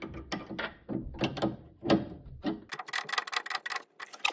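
A wrench tightening a bolt on a VW Beetle steering gear box, with quick ratcheting clicks in irregular bursts close by, growing denser toward the end.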